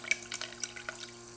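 Cooling water trickles and drips in small irregular splashes through a water-cooled CNC spindle motor over a steady low electrical hum.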